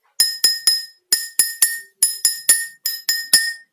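Glass partly filled with water tapped in quick groups of three, bright ringing clinks repeated in four bursts, close and clear with nothing else heard.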